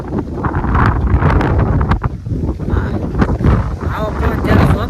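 Strong gusts buffet an outdoor microphone during rainy weather, producing a continuous low rumbling roar with fluttering peaks that persists throughout, under intermittent background talk.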